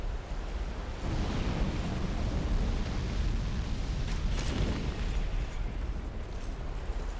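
A Dark Souls 2 boss spams fire attacks, giving a rolling stream of muffled fiery bursts and roaring blasts that is steady and moderately distant, with no talk.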